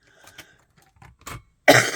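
A person with a lingering cough gives a few soft throat sounds followed by one loud, close cough at the end, in a quiet room.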